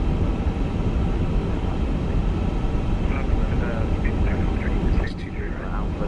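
An aircraft in a flight simulator game powers up for takeoff from the runway, giving a steady, loud, broad engine roar that fills the whole stretch while voices talk over it.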